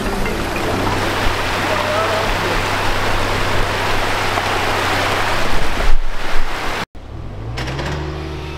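Floodwater runs steadily across waterlogged ground, forming a new stream, a loud continuous rushing wash that swells briefly before an abrupt cut, with a voice speaking French briefly over it.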